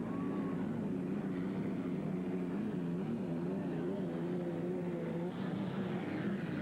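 Unlimited hydroplane racing boats at the 1981 Seattle Seafair race, engines roaring steadily and loudly as a boat accelerates around the entrance buoy, with a continuous droning tone throughout.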